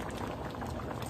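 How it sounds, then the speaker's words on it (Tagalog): Shrimp curry bubbling at a steady boil in a pot, a dense, continuous simmering burble throughout with no voices. "Ganyan po ang gusto kong kulo."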